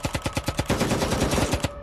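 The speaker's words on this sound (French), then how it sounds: "Tout à coup, on a entendu des coups de feu." Rapid bursts of automatic gunfire crack in quick succession, loud and close, ending abruptly.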